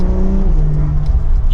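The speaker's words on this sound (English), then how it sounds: "It sounds good on the downshifts." The exhaust of a rear-engined, all-wheel-drive Porsche 911 Targa 4S blares loudly from up close as it downshifts, engine pitch dropping in a short rasping burble.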